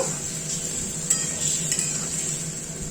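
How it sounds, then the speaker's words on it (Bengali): A ginger, tomato, cumin and chilli paste poured into a sizzling fish curry, giving a steady hissing sizzle with a couple of light utensil clicks, close and even, without talking. "আদা টমেটো জিরের গুঁড়ো লঙ্কা দিয়ে একটা পেস্ট বানিয়ে নিয়েছি পেস্টটা ঢেলে দিচ্ছি"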